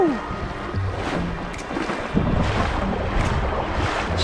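Ocean wave sets rolling in over a shallow sandbar on a long flat shore, a steady wash of surf with wind buffeting the microphone, the roar swelling louder midway.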